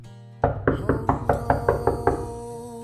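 Eight or nine evenly spaced knocks on a front door, firm and fairly close, rapping in a steady rhythm against a faint low hum in an otherwise quiet room.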